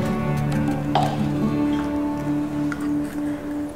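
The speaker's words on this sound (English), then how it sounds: "But now I'm using 100 ml of water to add in the pot" About 100 ml of water poured into a cooking pot for a turmeric and black pepper drink, a steady splashing, trickling stream heard up close with a few drips and no talking.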